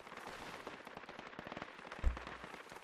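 A volley of rifle gunfire in the military shooter Project Reality during a night cooperative match, with rapid, overlapping cracks and one heavier boom near the end, loud and close with no voices.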